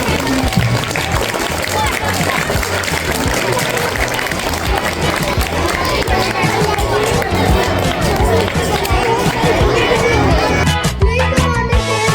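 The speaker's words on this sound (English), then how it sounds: "give them a huge round of applause" Loud applause from a crowd at an award ceremony fills the room, dense and sustained, with voices and general hubbub mixed in.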